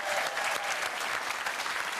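A studio audience at a TV game show gives a short burst of loud, dense clapping that stays steady for two seconds with no talk over it.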